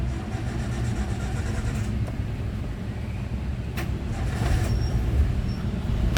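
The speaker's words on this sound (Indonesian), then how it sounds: "Dan kita nyalakan untuk mesinnya." A 1994 Suzuki Vitara JLX 4x4 engine idles steadily at low volume, a muffled mid-range rumble from inside the cabin with a couple of faint clicks and no talking.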